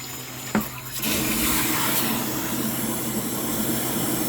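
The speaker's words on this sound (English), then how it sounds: "Look at all that aeration from" Fuel return line dumping through a venturi siphon tube into the fuel tank, aerating the fuel: a steady, close watery rush and hiss that surges up after a brief knock and then holds constant without talk.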